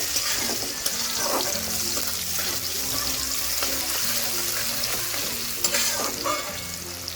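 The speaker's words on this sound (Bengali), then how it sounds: "পেঁয়াজটাকে একটু লালচে কালার করে ভেজে নেব।" Chopped onions, with a pinch of black cumin (kalo jeera), sizzle and fry in a pan, stirred with scraping strokes in a steady, loud crackle throughout.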